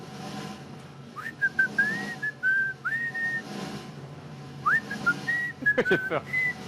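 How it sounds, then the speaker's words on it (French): A person whistles a tune in short melodic phrases with sliding notes and gaps, fairly close and clear, with light background noise. "Mais tu siffles très bien, je trouve."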